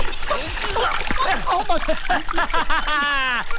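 Water gushes out of a pipe, splashing steadily beneath excited, overlapping voices talking loudly nearby.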